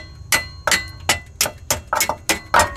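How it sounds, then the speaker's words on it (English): Seven sharp metallic hammer blows at an even, steady pace, hammering out a rusted car exhaust bolt, each ringing briefly before the next strike, close and loud. "Now we need to hammer out the bolt."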